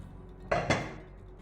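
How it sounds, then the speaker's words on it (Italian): Ingredients dropped into a cooking pot in a kitchen, two quick clattering knocks close together followed by a short fading ring, near and fairly quiet with no speech. "mettiamo tutto dentro una pentola"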